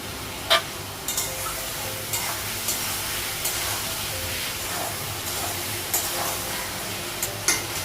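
Spices and tomato frying in a pan, giving a steady, dense hiss with occasional sharp clicks and stirring scrapes, close and continuous without talk.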